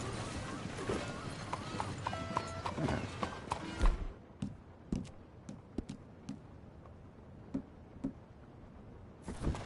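Hooves clip-clop steadily as a horse moves in Red Dead Redemption 2, first under loud mixed game noise, then as a clearer, evenly paced run of hoofbeats alone.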